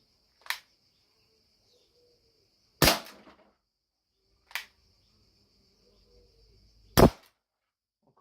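An H8R Gen 2 CO2 airsoft revolver fires four sharp, separate shots with uneven gaps between them. Each is a crisp pop with a short ringing tail, and the quiet between shots is nearly silent.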